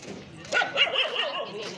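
A dog barks and yips in short bursts at moderate distance along a street near a taluk hospital, with a voice talking underneath.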